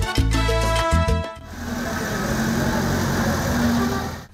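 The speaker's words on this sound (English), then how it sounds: "This is a Ford Fairlane from the 56 with a Chevy Camaro 350 engine in it" A 1956 Ford Fairlane fitted with a Chevy Camaro 350 engine idles on a street, a steady low rumble close by, following a burst of tonal noise at the very start.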